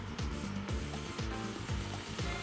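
Oil poured into a hot pot with tomato paste sizzles steadily, a continuous crackling hiss over repeated low pulsing tones.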